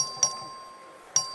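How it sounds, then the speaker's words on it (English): Bell rung by the clerk in a legislative chamber to call a record vote, two clear bright strikes about a second apart, each ringing briefly and fading, with no talking. "The clerk ring the bell."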